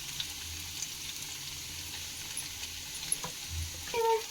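Onion and baby corn fry in a pan, giving a steady, gentle sizzle with occasional soft stirring scrapes and a small clatter at the end.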